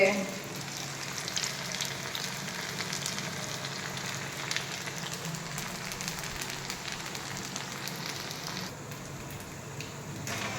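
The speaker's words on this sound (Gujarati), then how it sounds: "તળી નાખશું અને એકદમ આપણે બ્રાઉન જેવા થઈ જાય ત્યાં સુધી એને તળવાના છે" Rice pakoda (bhajiya) deep-frying in hot oil until brown, a dense, steady crackling sizzle that fills the whole stretch at an even, close level with no talk.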